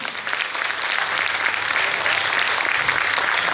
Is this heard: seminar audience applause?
yes